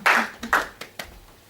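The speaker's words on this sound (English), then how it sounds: "I'm going to give you a huge round of applause." A small audience claps for a volunteer at a rapid hypnosis stage show, a few loud bursts of hand claps followed by scattered single claps that fade out quickly.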